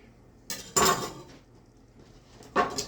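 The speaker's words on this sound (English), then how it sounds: "Get the cabbage cut up." Cabbage being cut up with a knife for a home-cooked cabbage dish, heard as a few sharp, close chopping knocks against a board, spaced unevenly with quiet pauses between them.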